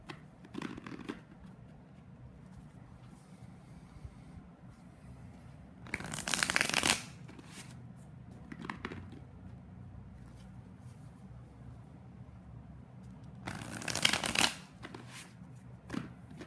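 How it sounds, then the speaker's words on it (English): Tarot cards being shuffled during a reading, two distinct bursts of crisp riffling about eight seconds apart, each lasting around a second, with fainter card handling and quiet room noise in between. "Shuffle one more time."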